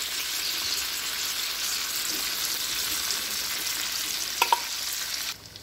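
Lahori-style lado pethi, spoonfuls of lentil batter, frying in a pan over medium heat; a steady, close, even sizzle runs throughout, with a couple of brief clicks near the end before it drops away.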